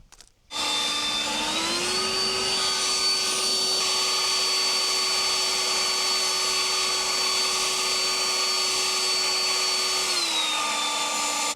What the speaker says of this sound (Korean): 송풍기가 약간 국소적으로 이렇게 불잖아요, 바람이